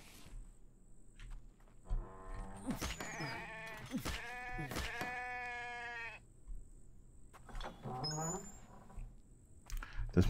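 Sheep in a video game bleats in a long, wavering cry, followed later by a shorter bleat, fairly clear against quiet game background.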